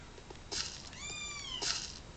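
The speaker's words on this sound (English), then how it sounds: "They meow at me constantly." A pet cat lets out one drawn-out, close meow amid faint scuffling and light background noise.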